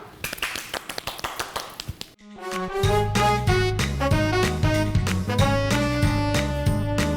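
Studio audience on a Hindi-language TV talk show claps in a quick burst of sharp, rhythmic claps for about two seconds, then a bright, loud musical sting takes over.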